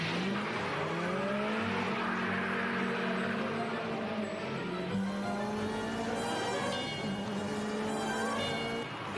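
A Mercedes 2.5 litre 16-valve and a BMW M3 Evolution race at Montlhéry, their engines roaring close and loud with rising and falling revs and brief tyre squeal throughout.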